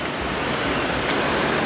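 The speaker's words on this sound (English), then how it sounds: "yeah, just never seen a marble rolling on water like that before." Water flowing steadily over a rolling marble fountain outside a bank in Bangkok, a dense continuous rushing wash with no pauses or voices.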